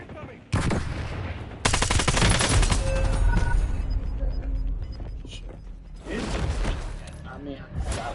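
Dense, rapid automatic gunfire in the Call of Duty Warzone video game, with long sustained bursts and mechanical game effects. A voice speaks briefly over the continuous shooting.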